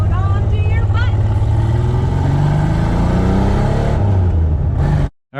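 An old, abandoned Ford Bronco II engine running loud and close, a steady rumbling drone with rising and falling pitch as it revs, under faint voices, cutting off briefly at the end.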